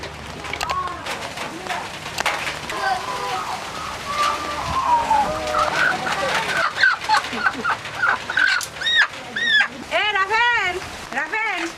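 A local desi chicken clucks and calls in repeated short bursts, louder and more frequent toward the end, while people talk nearby.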